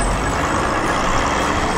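A small cartoon bulldozer trundles forward, its loud continuous diesel-like rumble and rattling noise holding steady throughout without any talk.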